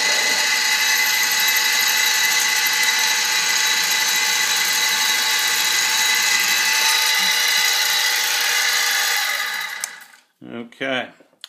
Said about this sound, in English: So I might drill 2 or possibly 3 pilot holes before I get to my final diameter.